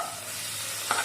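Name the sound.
onion and green chili paste frying in oil in a wok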